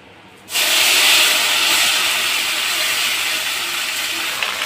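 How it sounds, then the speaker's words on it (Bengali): Onion paste hits a hot kadai with a sudden loud hiss that flares up after a brief quiet moment and then settles into a strong, steady sizzle. "আমি পেঁয়াজ বাটাটা এখন কড়াইতে দিয়ে দেব।"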